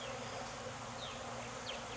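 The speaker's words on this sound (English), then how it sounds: "I got a bee in here buzzing with me inside" A honey bee trapped inside a beekeeper's veil buzzes close and steady, a continuous droning hum with a few pitch swoops as it moves, heard alone.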